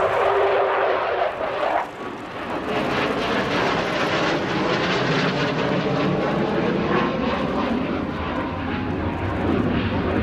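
A Ukrainian Air Force Sukhoi Su-27 fighter jet flying its display at the RIAT 2019 airshow at RAF Fairford produces a loud, sustained jet roar that swells slightly and holds steady, with no talking.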